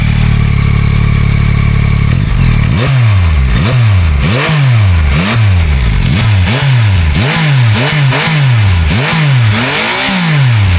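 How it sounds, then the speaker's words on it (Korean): Starting from a steady idle, a 2025 Yamaha MT-09 SP on its stock exhaust is blipped about ten times in quick succession, each sharp rev rising and falling back, loud and close with no voices. "예, 순정 배기음인데 어 이거 나쁘지 않아요"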